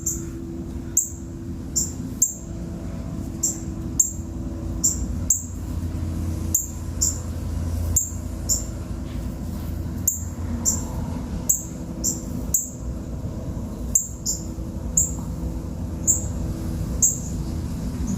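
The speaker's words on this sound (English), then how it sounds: "Listen to the birds chirping." Small birds chirp outdoors on a fine day in short, high, repeated tweets at a steady pace throughout, fairly near, over a low continuous background hum with no talk.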